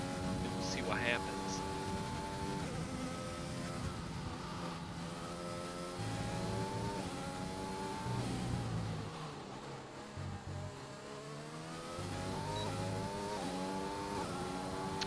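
Race cars lapping Circuit of the Americas, engines droning and shifting pitch continuously as they accelerate and brake, with a commentator talking over the sound throughout.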